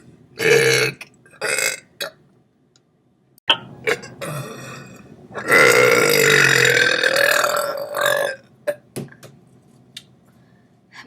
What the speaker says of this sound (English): I'm gonna try burp on key.